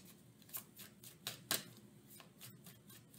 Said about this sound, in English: I just want a clean shuffle